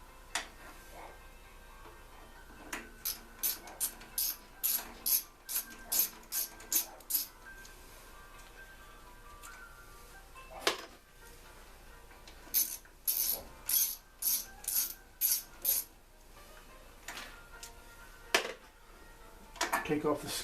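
A ratchet clicks in quick bursts of rapid pawl ticks as it backs out tiny bolts on a Craftsman tiller, close by and crisp, with pauses between runs and a voice occasionally in between.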